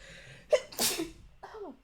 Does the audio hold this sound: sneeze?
yes